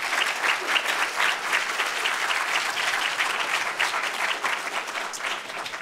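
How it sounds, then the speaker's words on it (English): A conference audience gives a sustained round of applause for a poster presenter after a Q&A session, dense and even clapping throughout, fairly loud, with no voices on top. "Let's give Yasha one more round of applause."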